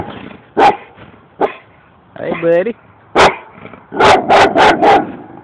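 A dog barks nearby outdoors, single sharp barks followed by a whimpering whine and then a rapid burst of four loud barks, with someone speaking briefly between them.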